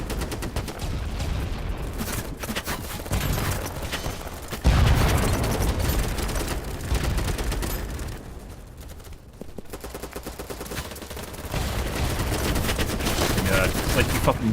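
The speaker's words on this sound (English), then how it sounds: "He was shooting at me while the other guy behind me was shooting him." Gunfire in the game Battlebit: dense bursts of automatic rifle shots, some close and loud, others farther off, rattle almost without a break, with one brief quieter gap before the shooting picks up again.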